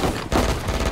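Rapid gunfire in the shooter Valorant, a dense burst of overlapping shots filling the whole second, loud and close with no talk over it.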